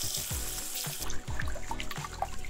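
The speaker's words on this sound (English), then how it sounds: "rinse your rice in cold water and drain through a sieve" Cold water runs into a bowl of rice as it is rinsed, then drains through a sieve, giving a steady close splashing and trickling with soft clinks, loud and without talk.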